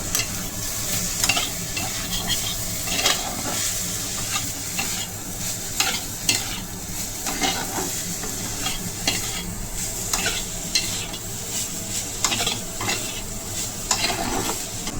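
Momo filling with soy sauce gets stirred in a hot pan: continuous loud sizzling with frequent spatula scrapes and clacks at an uneven pace, no voices present.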